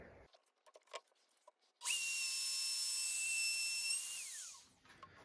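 A router fitted with an Oneida dust hood starts with a rising whine and cuts straight across MDF, a steady high-pitched scream for about three seconds before spinning down, preceded by quiet handling clicks.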